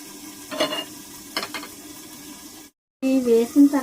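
Coriander chutney ingredients fry in a covered pan with a low, steady sizzle and a couple of soft stirring scrapes, then a brief silence before louder clattering resumes.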